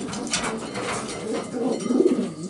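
A racing pigeon coos nearby, low throaty rolling calls repeating in a soft, uneven rhythm with no talking.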